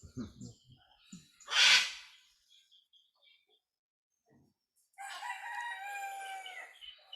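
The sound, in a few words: birds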